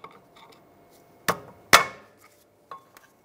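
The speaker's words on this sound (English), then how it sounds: "I'm just using a pry bar because this one's stuck on there pretty good" Two sharp metallic knocks as a pry bar works a stuck rear brake pad loose on a 2006-2009 Mercedes-Benz E350, then a lighter clink, against near silence.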